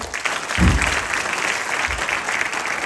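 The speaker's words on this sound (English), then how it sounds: "Maybe a louder round of applause for them." An audience at a school quiz event gives a round of applause, a full continuous wash of clapping with no one speaking over it.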